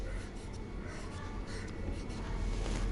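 Marker or chalk writing on a classroom board, a faint continuous scratchy stroke against a low background hum.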